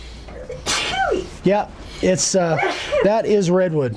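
A single sneeze bursts out in a woodworking shop where redwood sawdust is being cut for a live edge slab shelf, loud and close, with a voice talking around it.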